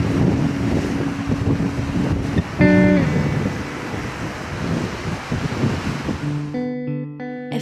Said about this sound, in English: you'll hear that it's beginning to get a little windy.